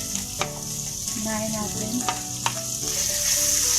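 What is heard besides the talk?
ginger sautéing in a pan for shark kinunot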